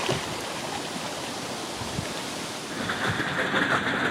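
Strong gusting wind roars steadily across a sailboat moored off the southwestern Turkish coast, a broad rushing wash that swells slightly toward the end, with no one speaking.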